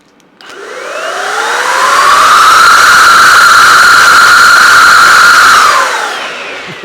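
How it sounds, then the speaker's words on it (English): A Mellif 20V cordless air duster spins up into a loud, high-pitched whooshing blast, holds a steady whine for several seconds, then winds down, very close with no talking. "cordless duster seems to be a powerhouse"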